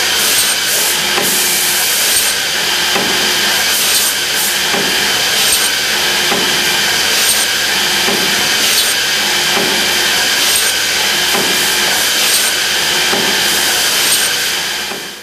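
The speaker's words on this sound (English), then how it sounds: "The blade travels through the material in a circular motion to eliminate any tear out." An Accu-Systems optimizing cross cut saw with a 16-inch blade cuts through wood in a shop, a loud continuous whir of the running saw broken by a regular series of sharp, repeated cutting strokes.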